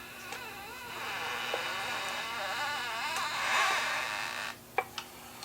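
A 1950s Johnson outboard motor with its spark plugs removed is pulled over by hand, giving a steady whirring, buzzing drone with a slight rising surge, then a few sharp clicks as the turning stops.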